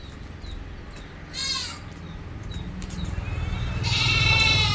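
A crossbred dairy mother goat and her male kid bleat in short repeated calls, one nearer and louder toward the end, over a steady farmyard background hum.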